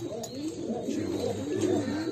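Pigeons in a loft give low, rolling coos close by in a short burst, with faint rustling in the background.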